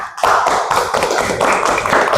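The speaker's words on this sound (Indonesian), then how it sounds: "tepuk tangan untuk kita semua" A classroom of pupils claps hands together, a loud, close burst of quick, uneven claps starting abruptly and continuing steadily for about two seconds without talk.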